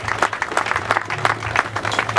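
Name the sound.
funeral attendees applauding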